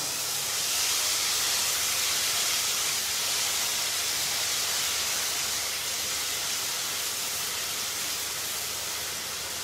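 Ground masala roasts in ghee over low heat, giving a steady, dense sizzling hiss that stays close and even throughout, with no one speaking.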